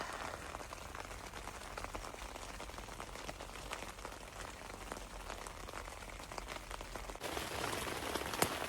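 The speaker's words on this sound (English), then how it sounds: "I'm going to lay here and listen to some rain." Rain falling on a quick-setup camping tent at night, a steady dense patter of drops on the fabric, fairly faint and unbroken, growing a little louder toward the end.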